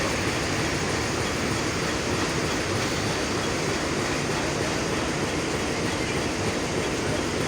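The 767 Dolanchapa Express intercity train at Dinajpur Railway Station gives a steady, dense rumble and roar of rolling cars, loud and unbroken throughout.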